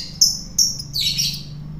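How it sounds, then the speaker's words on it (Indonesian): A lovebird kept alone for nearly a year chirps in a few sharp, high tweets followed by a longer trill, close and clear over a low steady hum. "ini contoh burung lovebird yang saya single kurang lebih hampir 1 tahun"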